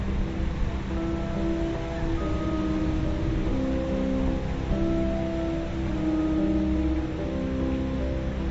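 Traffic rumbling over an ageing bridge that shakes as the cars cross, a steady low roar with engine hum, continuous and fairly loud with no talking.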